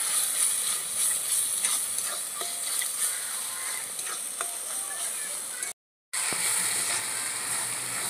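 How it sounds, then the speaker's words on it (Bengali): A spice paste of turmeric, ground ginger, garlic and chili crackles and sizzles steadily in a hot pan, with light stirring scrapes throughout and a brief dropout near the end. "পরিমাণ মতন হলুদ গুঁড়ো, আর বেটে রাখা আদা রসুন আর লঙ্কা। এবার ভালো করে একটু কষিয়ে নেব।"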